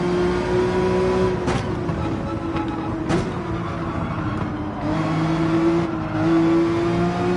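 A race car engine in Gran Turismo 7 drones loud and steady near the limiter, its pitch holding high with brief dips and surges at gear changes, continuous and close with no talk.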